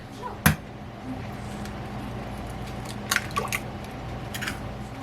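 A single egg cracked and dropped into a bowl of weighed whey for homemade pasta dough, giving one short wet splat near the start, followed by a few faint liquid drips and small clinks nearby in a quiet kitchen.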